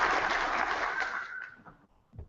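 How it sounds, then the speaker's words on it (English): Audience applause at an evening arachnid talk, a dense wash of clapping that rises full and then thins out and fades over the last second. "how about another round of applause for Cara?"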